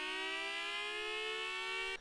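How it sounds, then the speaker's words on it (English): An electromechanical tornado siren with a motor-driven spinning chopper, holding a loud, steady, rich wailing tone for about two seconds before cutting off. "You have the electromechanical, aka classic siren design, which has a chopper that spins super fast from an electric motor, which sucks in air through little holes"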